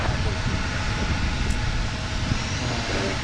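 A Horizon Air airliner's engines roar loud and steady at Portland International Airport, a broad continuous rumble filling the whole clip with a faint voice barely under it.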